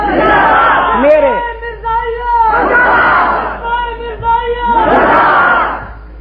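At a religious speech gathering, a large crowd chants slogans in loud, unified waves, with three surging shouts separated by shorter call-and-response bursts.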